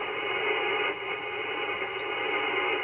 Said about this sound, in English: And that gives us a good noise floor, I guess.